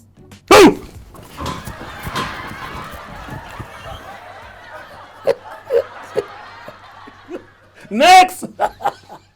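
A person imitates a security dog, voicing short barking yelps at the start and end, with chuckling and laughter in between and brief talk around it, all close and loud.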